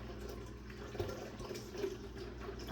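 Water running into a canner in a home kitchen, a soft continuous trickle and splash of filling liquid with a few brief clinks, fairly quiet and close.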